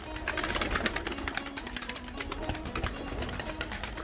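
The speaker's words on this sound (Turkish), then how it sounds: "Hem kanat çırpıyorlar, hem tozlarını atıyorlar, hem böyle hava alıyorlar." Pigeons at a home nest flap their wings as they come out into sunny weather, a dense fluttering rustle of wingbeats mixed with soft cooing, steady and close throughout.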